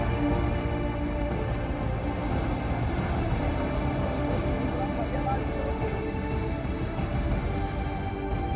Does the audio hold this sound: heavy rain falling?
yes